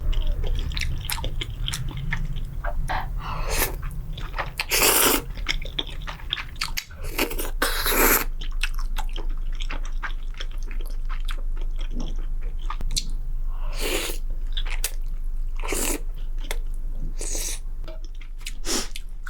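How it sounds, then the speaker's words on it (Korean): Someone eats Korean fried chicken and tteokbokki (spicy rice cakes) up close, with repeated wet chewing, crunchy bites and squishy mouth sounds in irregular bursts, plus a few louder snort-like noises. "방금 너무 지저분하게 먹어서 아마 방금 거 자를 것 같아요"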